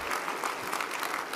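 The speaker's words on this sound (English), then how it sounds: "give yourself a round of applause" Applause from a seated real estate training audience, a dense steady wash of many hands clapping at moderate volume for a little over a second with no talk.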